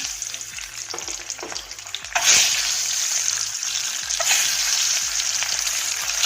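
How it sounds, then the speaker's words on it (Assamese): Salt-and-turmeric-coated eggs dropped into hot oil for an egg curry: a loud sizzle bursts in partway through and then holds as a steady, close frying hiss, with faint stirring scrapes beforehand. "তেলখিনি গৰম হোৱাৰ লগে লগে মই ইয়াতে দি দিম কণীকেইটা"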